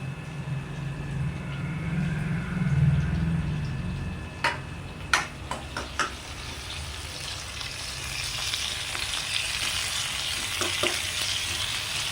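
Chopped tomato goes into hot oil in a pan for a green peas curry, setting off a loud frying sizzle, followed by a few sharp utensil clicks and a steady crackle with no talking.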